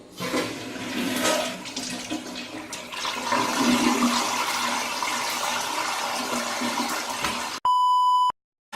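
A household toilet flushes, roaring loudly with rushing, swirling water that drains away over several seconds, followed by a short electronic beep.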